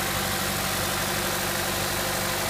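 A Chevrolet Ecotec 1.4 liter engine, with a P0171 lean-condition fault, idles steadily with a low, even rumble and a constant broadband hum, close and alone with no voices.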